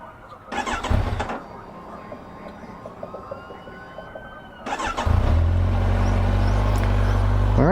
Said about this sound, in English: this is a Ninja 1000. I already love the sound.